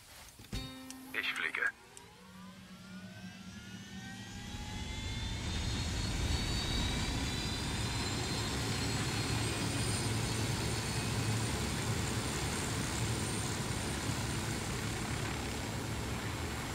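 A helicopter arrives in Ghost Recon Wildlands, its engine whine and rotor roar swelling after a brief clatter and then holding loud and steady.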